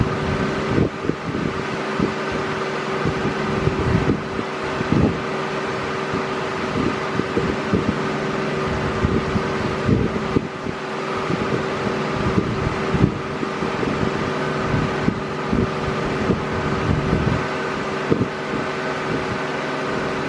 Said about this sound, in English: The fan on, so it's blowing all this damn smoke out of here